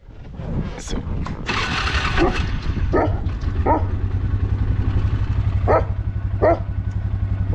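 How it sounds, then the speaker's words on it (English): A dog barks several times in short, spaced bursts over a steady motor drone, with some voice in the mix. "what are you barking at"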